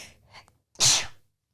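A single sharp sneeze, close and loud, preceded by a couple of quick intake breaths.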